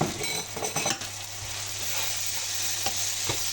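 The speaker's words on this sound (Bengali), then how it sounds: "মশলাগুলি সুন্দর করে ভুনে নেব" Masala paste frying with onion and tomato in a pan, a continuous close sizzle with stirring scrapes and light utensil clinks against the pan early on, no talking.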